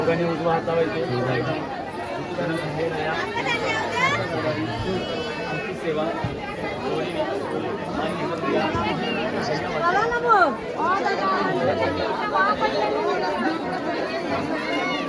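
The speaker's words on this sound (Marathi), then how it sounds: "खूप गर्दी असते इथं" Dense chatter of a large crowd at a packed Ganpati temple, many overlapping voices blending into a steady babble with a nearby speaker over it.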